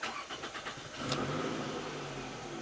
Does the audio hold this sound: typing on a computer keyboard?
no